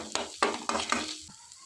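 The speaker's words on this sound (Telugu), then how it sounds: "ఇంకాని ఇలా టమాటాలన్నీ వేసుకుని ఇవన్నీ కూడా బాగా మగ్గించుకోవాలి." Tomato pieces stirred in a hot pan for roadside-style peas chaat, giving short scraping stirs over a steady sizzle, three or four strokes close up, with no talking.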